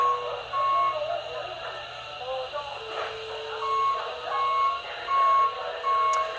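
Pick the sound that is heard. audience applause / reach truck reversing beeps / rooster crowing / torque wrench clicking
reach truck reversing beeps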